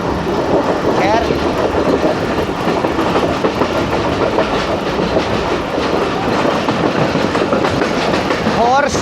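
A passenger train rolls along the tracks on the mountain route to Quetta, with a steady, loud clatter and rumble of wheels and carriages and occasional squeals, while a voice talks over it.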